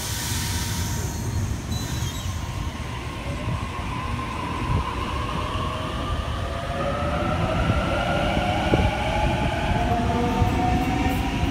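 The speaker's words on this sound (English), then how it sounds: "We have a Waratah bound for Epping arriving into platform number 4." A Waratah electric train pulls into a platform at Sydney's Redfern Station, with a steady loud rumble of wheels on rails and rising, drawn-out squeals and whines of brakes as it slows.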